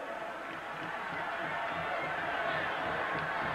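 Stadium crowd of 85,000 at a 1989 Alabama at Penn State college football game, a broad, distant roar of voices swelling slightly, with a commentator speaking over it.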